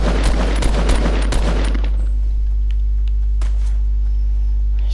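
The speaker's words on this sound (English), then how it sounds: "One sec, I need to shoot." Gunfire in Fortnite, a loud burst of rapid shots and bangs in the first two seconds, then fading into a low steady hum with a single faint crack later.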